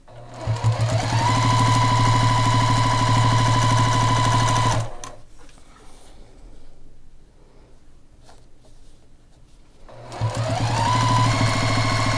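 A sewing machine stitches quilt binding in two long steady whirring runs, close and loud, separated by a quiet pause with faint handling noises.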